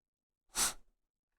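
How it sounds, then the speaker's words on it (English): A single short sneeze from a person working on a faulty Blackmagic HyperDeck Studio 2, sharp and close, breaking out of otherwise silent surroundings. "Okay, I'm about to sneeze again."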